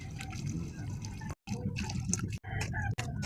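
Water is poured into a mix of cement and sand, giving close splashing and trickling with brief pauses between pours.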